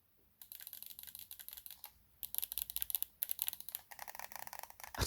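Buttons and eXtremerate tactile digital triggers on a PS5 DualSense controller click rapidly, crisp bursts of quick, evenly spaced clicks with short pauses between runs, close and fairly quiet.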